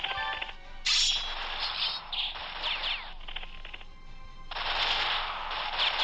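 Light machine guns firing in the World War I strategy game European War 6: 1914 give off rapid, bright rattling bursts of automatic fire in several close, loud volleys separated by short gaps, with no talking.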